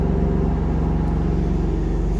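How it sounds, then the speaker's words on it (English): The 3.0 BiTurbo engine of a 2019 BMW M2 Competition coupe revs at close range, a loud, continuous low rumble that holds steady throughout. "I've had it warmed up so I can give it a little rev."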